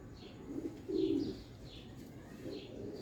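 Pigeon of a Teddy Golden breed cooing in soft, low repeated phrases, with faint chirps above, fairly close in a quiet setting.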